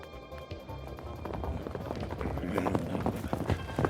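Horse hooves clip-clop in a quick running rhythm on a road, growing louder and busier toward the end over a murky, music-like background.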